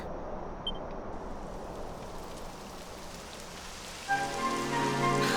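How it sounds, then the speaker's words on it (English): Steady rain falls in Dragon Quest XI, a soft, even patter with no voices, joined near the end by a louder burst of bright, tonal game music. "It would have to go and start raining, wouldn't it?"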